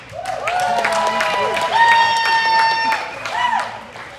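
A crowd at a livestock show, the Arizona National junior purebred gilt show, cheers, whistles and claps in a sustained roar, while a voice talks over the noise and shrill whistles cut through it.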